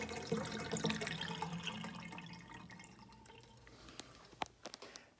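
Water gurgles and drips as it drains through a cleared shower drain after snaking, a low wet rush fading into scattered, close drips and trickles.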